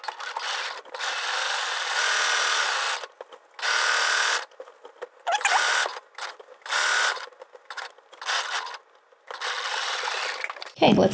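A sewing machine stitches a New Look 6263 summer dress with elastic in repeated short bursts of whirring, stopping and starting every second or two, fairly close and alone.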